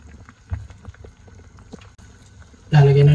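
A pot of spicy fish roe soup with tiny shrimp and leaves boils over, a low bubbling undertone with scattered pops that suddenly swells into a loud, full rolling boil and frothing surge near the end.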